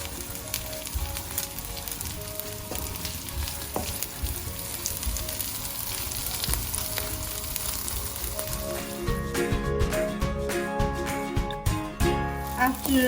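Potato with dried anchovy fries in a pan, a steady bright sizzle that grows busier and louder toward the end with crackling spatters, close by and alone.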